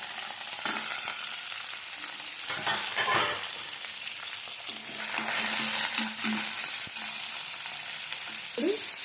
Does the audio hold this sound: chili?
yes